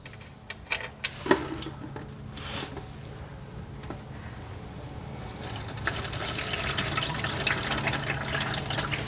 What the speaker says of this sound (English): So it may drip on that cross member. Hopefully it doesn't splash around.